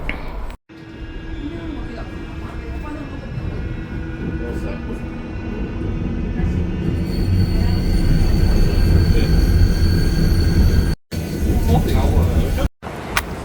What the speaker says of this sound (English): so we're on the tram now